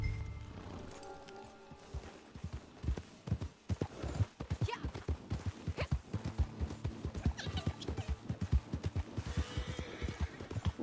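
Horse hooves clip-clop at a quick, steady riding pace in Red Dead Redemption 2, close and continuous over game ambience, with a brief whinny-like sound mixed in.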